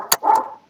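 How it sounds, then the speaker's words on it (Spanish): A single short dog bark rings out close and fairly loud in an indoor room, preceded by a sharp click. "Mi perro se desespera."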